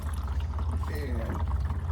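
Engine oil from a 2021 Jeep Grand Cherokee pours out of the drain into a catch bowl during an oil change, a steady liquid splashing beneath a low hum, with someone talking over it.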